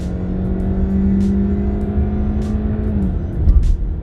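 A Hyundai Sonata Limited engine pulls through the gears, heard from inside the cabin as a loud, steady rising tone that drops off at a shift near the end.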